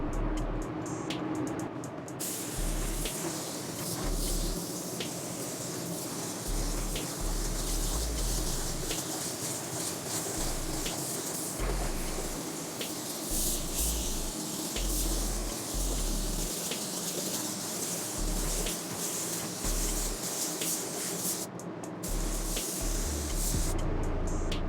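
Spray gun dusting a light clear coat onto a car part, a steady broadband hiss running continuously, close and fairly loud, with brief pauses near the start and end.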